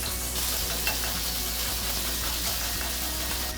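Lamb sizzles and fries in a pan as it is stirred, a steady hiss with light scraping of the utensil throughout, no voices.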